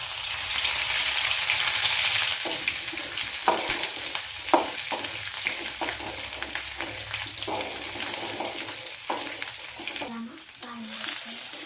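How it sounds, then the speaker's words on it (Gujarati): Whole cumin sizzles in ghee, with red chillies also in the pan for a Kathiyawadi dish. A bright sizzle fills the first seconds, then irregular spoon knocks and stirring scrapes follow as the frying quiets down. "હવે આપણે આખું જીરું નાખી દઈએ અને થોડું ઘી નાખી દઈએ"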